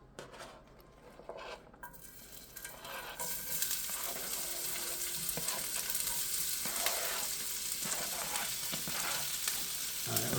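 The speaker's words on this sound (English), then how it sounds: "I'm going to follow that up now with the onions and the mushrooms" Onions and mushrooms sizzle in hot beef drippings for a Salisbury steak, a loud, steady frying hiss that rises after a quieter start and carries on with occasional stirring and pan scrapes, no voices.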